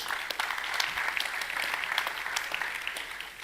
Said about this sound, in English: you can keep on clapping